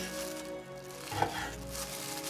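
A knife slicing through partly frozen beef on a board, a few soft close strokes with one firmer cut midway, quiet and without talk.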